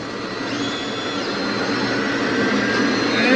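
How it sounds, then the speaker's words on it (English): A fixed-wing airplane banks in flight, its steady engine roar filling the cabin with a broad, continuous drone that swells slightly louder toward the end, with no talk over it. "this plane handles very well, doesn't it?"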